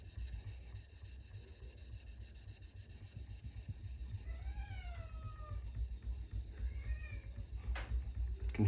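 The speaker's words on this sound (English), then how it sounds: "Can hear that cat outside." A cat meows faintly and far off outdoors, two drawn-out calls rising over a steady mechanical hum and rubbing noise from a TSPROF Kadet Pro knife-sharpening setup running indoors.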